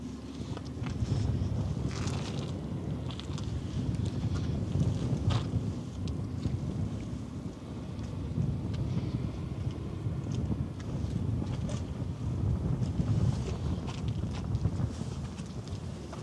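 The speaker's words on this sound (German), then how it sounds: "der Wind hat wieder so ein bisschen zugenommen" Wind blows steadily across a Hamburg harbour where a flag flaps, a continuous broad rumbling rush with gusty swells at the microphone, no talk.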